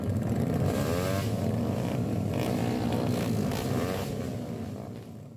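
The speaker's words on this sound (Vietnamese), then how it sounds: "Chỉ cần nghe tiếng động cơ gầm rú của những chiếc xe này cũng đủ khiến người đi đường phải khiếp sợ" Modified motorcycles roar loudly and continuously at close range, a dense engine rumble with revving surges that fades slightly toward the end; no voices.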